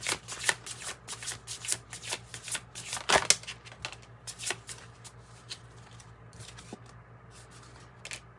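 Heavenly Bodies Astrology oracle cards being shuffled by hand, a run of quick papery riffles and flicks repeating steadily and close up with no talking.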